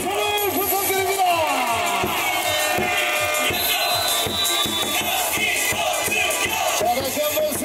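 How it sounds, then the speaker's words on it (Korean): A baseball stadium crowd at a KIA game cheers and claps loudly and continuously, with amplified voices and music mixed into the dense roar. "멋진 승리 이끌어주는 선수들에게 박수와 환호를 부탁드립니다."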